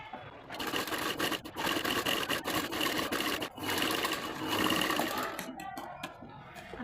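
Sewing machine stitching a baby cap, running a continuous stitch along a circle marked 1.5 inches in. The whirring motor runs steadily and close, with brief pauses and restarts between bursts of stitching.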